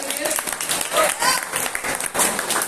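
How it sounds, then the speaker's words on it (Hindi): An audience at an arm wrestling championship briefing in Lucknow breaks into clapping, a short, uneven burst of applause with voices talking over it. "ताली बजा देंगे"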